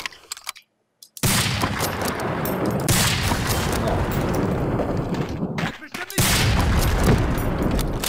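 Loud, rumbling explosions and gunfire in the video game Medal of Honor: Allied Assault, sustained and dense after a short silence, broken by a brief gap before more blasts, with voices talking over them.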